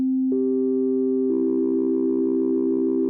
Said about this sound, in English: It sounds like a synthesizer.